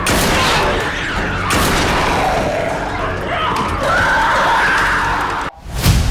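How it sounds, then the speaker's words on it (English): A loud burst like a rifle shot and explosion from a gas pump in a zombie film, a sustained roaring blast with a sharp drop near the end, then a final hit. "shoots the lock off the pump with his rifle, spraying gas on the ever-present torch, resulting in a massive explosion"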